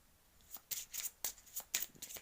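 A deck of cards riffled and shuffled by hand, a quick series of crisp papery bursts in rapid clusters, close and fairly quiet with no voice over it.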